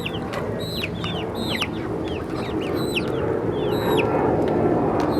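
Chickens cluck and squawk repeatedly over a steady, loud background rumble, several birds calling in quick succession nearby.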